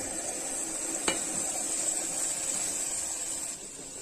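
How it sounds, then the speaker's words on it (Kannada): Ground egg masala frying in oil with onion for an egg curry, a gentle hiss under one clear clink of a utensil on the pot and faint stirring, quiet and close, with no talking. "ಸ್ವಲ್ಪ ಇದು ಎಣ್ಣೆಲ್ಲ ಫ್ರೈ ಆಗಬೇಕು."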